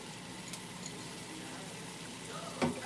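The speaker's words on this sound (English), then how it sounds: "I'm gonna go ahead and I'm gonna saute these onions in these drippings" Onions sauté in chicken drippings in a pan for smothered chicken, giving a steady, quiet frying sizzle with a brief stir-like scrape near the end.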